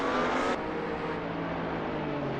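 Race cars in the Assetto Corsa sim howl around Imola in a loud, sustained engine roar whose pitch drops abruptly early on, then holds steady.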